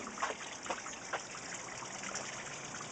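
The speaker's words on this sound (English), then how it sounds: "he's gonna pull the plug and then we're gonna drain the hose" Water trickling and draining from a hose during aquarium maintenance while setting up a wooden plant box, a steady hiss of flow with a few splashy surges, moderately close and without talk.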